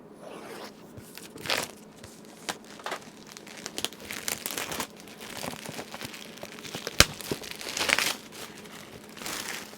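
Plastic and cardboard packaging being cut and crinkled off a new boxed Noco GBX155 lithium jump starter booster pack, a steady stream of close crumpling, tearing and crackling with sharp bursts, no talk.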